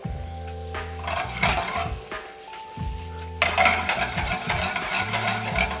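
Brown sugar, star anise and a bay leaf cook in a pan, giving a soft continuous sizzle with scraping stirs and occasional clinks of a utensil against the pan.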